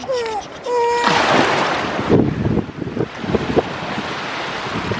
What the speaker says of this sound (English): Look, it's the water, it's the ocean.